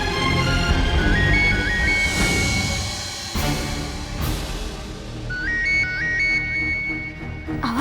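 A mobile phone ringtone plays in a room at home, a repeating stepped electronic melody heard twice with a pause between, over a continuous background music bed.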